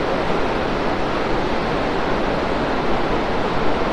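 Iguazu Falls roaring as a broad, constant wash of falling water, loud and close, with no breaks and a faint wind rumble.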